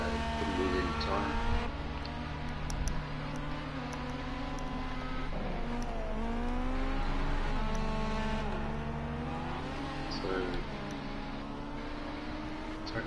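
Ginetta race cars circling Ruapuna circuit, their engines faint and distant, rising and falling as they pass beneath steady commentary.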